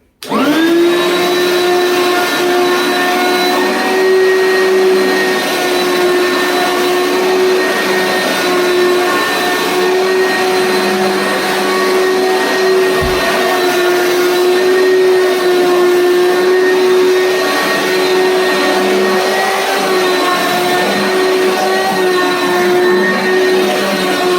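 A Bissell Big Green Commercial upright vacuum runs over carpet with a loud, steady whining drone that holds unbroken for over twenty seconds.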